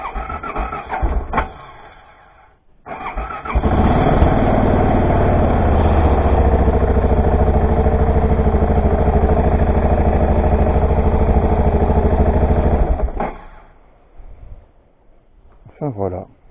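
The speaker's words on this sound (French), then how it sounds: "Tiens, je vais la mettre en route." A Voge 650 DSX motorcycle engine starting, then idling steadily and loudly close by for about ten seconds before shutting off, with brief talk before and after.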